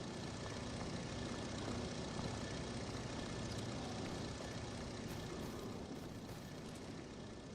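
Airplane engine in the Farming Simulator 25 video game on the Judith Plains Montana map, a steady, droning propeller hum with a low rumble that holds evenly throughout, without speech.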